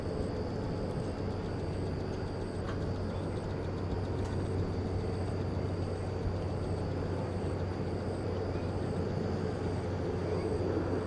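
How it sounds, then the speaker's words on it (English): An American Airlines airliner in flagship livery taxiing through a turn at DFW Airport at night, a steady continuous engine roar and whine at moderate distance with a constant high tone. "Another look here at the American Airlines flagship livery as it makes the turn."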